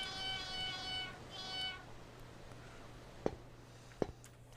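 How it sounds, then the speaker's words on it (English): Two drawn-out cat meows in Yakuza 4, fairly close and clear over a low steady hum, followed by quiet background and a couple of sharp clicks. "Just let the soothing sound of meowing cats fix my broken soul."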